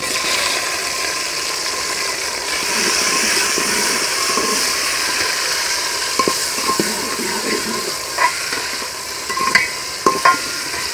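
Tomatoes and green chilies frying in a pan of cabbage curry, a continuous loud sizzle with the spoon scraping and knocking in sporadic clusters across the stretch, without any talking.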